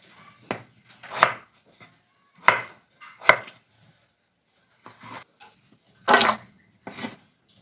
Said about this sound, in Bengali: এবার আলুগুলো কেটে নেব